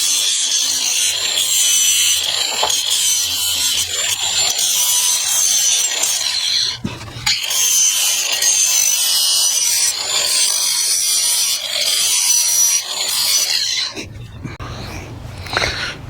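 A Black & Decker Professional 13 amp power tool cuts through thick material on an old car trailer, giving a loud, continuous harsh grinding and rasping with one brief dip partway through and a change in tone near the end.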